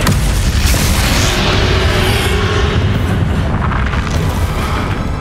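A Flipendo spell cast during Hogwarts Legacy combat lands as a loud, rumbling boom that swells into a dense, sustained blast lasting several seconds, with no one speaking.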